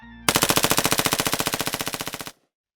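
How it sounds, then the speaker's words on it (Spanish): A rapid burst of gunfire, about two seconds of loud, evenly spaced shots in quick succession, then abrupt silence. "escuché unos disparos que me devolvieron a la realidad"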